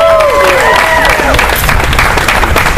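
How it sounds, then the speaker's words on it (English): Audience applause for Representative Branch at a Texas legislative day gathering, a loud, steady wash of clapping from a crowd with scattered voices and a few shouts mixed in throughout. "let's give another big round of applause for Representative Branch."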